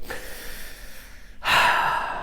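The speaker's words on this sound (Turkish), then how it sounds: "Bir nefes alalım." A single deep, noisy breath drawn in close by, rushing and airy, following a moment of near quiet.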